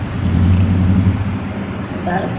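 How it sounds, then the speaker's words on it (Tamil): A vehicle starting up in the video game Human Fall Flat gives a steady, low engine rumble throughout, with a voice talking over it. "வண்டி ஆரம்பிச்சு வரோம்"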